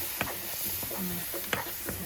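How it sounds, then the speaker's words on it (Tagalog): Fresh milk is poured into a hot pan while fettuccine sauce cooks, giving a steady sizzle with stirring clicks and scrapes, close and continuous. "bubuhos natin ng 1 cup na fresh milk"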